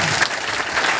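A crowd at a farmers' gathering by the Jind Khatkar toll plaza claps steadily and loudly throughout, a dense, even patter with no break.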